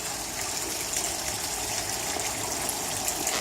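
Sea-salt water poured over a freshly transplanted Elephant Ear (Alocasia) in a garden, a steady close splashing gush that runs without pause.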